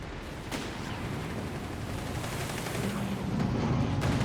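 A Panzer tank fires amid battle in the strategy video game Company of Heroes 3, with dense rumbling explosions and bursts of gunfire that pile into a continuous loud roar.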